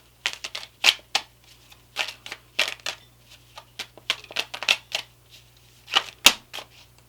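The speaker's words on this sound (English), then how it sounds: "I'm going to pull a card from the Osho Zen Tarot deck and just wait for" Osho Zen Tarot cards are shuffled by hand in a rapid, irregular series of crisp riffling snaps and flutters, close and clear against a quiet background.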